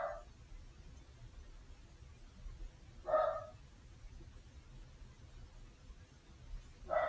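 Three short, fairly distant dog barks, evenly spaced about three seconds apart over quiet room background, with no talking.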